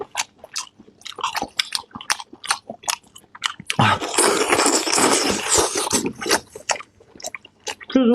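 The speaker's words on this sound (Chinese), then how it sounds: "猪肉块， 太好吃了。" Pork chunks are eaten close to the mic in a Chinese mukbang, with crisp bites and wet chewing at a steady rhythm. A loud, dense burst of crunching and rustling follows in the middle, then the chewing continues.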